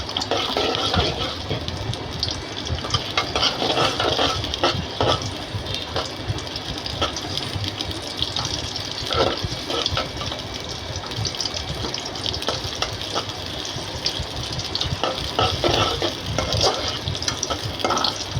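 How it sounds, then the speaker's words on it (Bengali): Onions frying lightly in a wok for white pulao, a constant loud sizzle broken by scraping stirs and clicks of the utensil against the pan, close and busy throughout. "প্রথমে আমি পেঁয়াজ দিয়েছি কড়াইয়ের মধ্যে। পেঁয়াজগুলা ভেজে নিচ্ছি"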